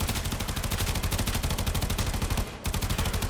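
Tennora Prime's minigun in Warframe fires in a dense, rapid, unbroken stream of loud shots. The barrage breaks off for a moment near the end, then resumes.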